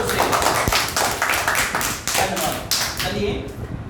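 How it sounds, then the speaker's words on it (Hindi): Students clap together at an Independence Day school event, a dense, steady patter of hands filling the space, with bursts and thumps standing out through the applause. "एक बार सभी विद्यार्थी, सभी स्टूडेंट्स अपनी करतल ध्वनि के द्वारा, तालियों की गड़गड़ाहट के द्वारा उत्साहवर्धन करें जोर से"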